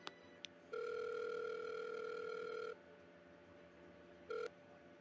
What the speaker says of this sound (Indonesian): coba kita telepon Amanda